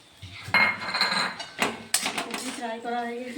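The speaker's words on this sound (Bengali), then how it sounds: "এখন ফ্রায়েড রাইস রান্না চলছে" Fried rice cooking in a pan with ghee, heard as repeated metallic scraping and clinking of a utensil against the pan at close range, with a bright clatter and background kitchen noise.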